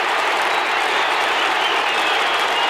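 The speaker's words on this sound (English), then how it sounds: "Judd comes to the bench to rapturous applause from the Carlton fans" Carlton fans at an Australian football match against Hawthorn in 2009 break into loud, sustained applause, a dense roar of clapping from a large stadium crowd.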